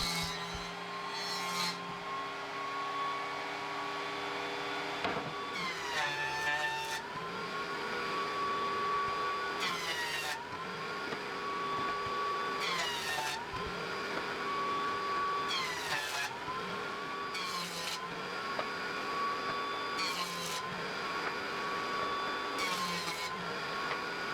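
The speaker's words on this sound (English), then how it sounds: "Now I'm using my trusty joiner, which does make this bench a lot easier to make" A wood jointer runs steadily as 2x4 boards are fed across it, a constant motor whine broken by repeated cutting passes about every three seconds, each a brief louder rasp with a dip in pitch.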